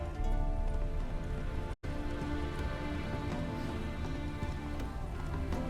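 Roach the horse gallops in The Witcher 3 video game, a steady rapid clip-clop of hooves running continuously under dense ambient game sound, broken by one brief silent gap near the start.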